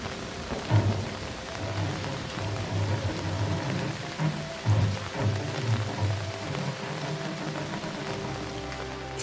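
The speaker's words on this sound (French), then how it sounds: "Une foule se rassemble sous une pluie battante pour assister à la pose de la première pierre" Heavy rain pours down at a crowded outdoor stone-laying ceremony, a constant, dense hiss of drops on surfaces with low rumbling underneath, steady and loud throughout with no voices.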